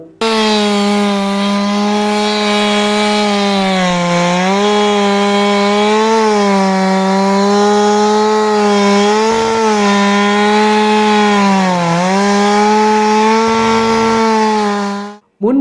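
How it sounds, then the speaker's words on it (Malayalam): A chainsaw run by fire brigade crews cuts up a large fallen tree beside a roadside canal. The engine drones loud and steady for about fifteen seconds with slight pitch wavers, then stops abruptly. "അഗ്നിരക്ഷാസേന എത്തിയാണ് മരം മുറിച്ചു മാറ്റിയത്"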